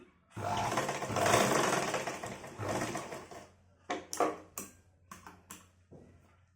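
A sewing machine restitching a top runs in a long fast burst, then stops and starts in several short bursts, close and fairly loud.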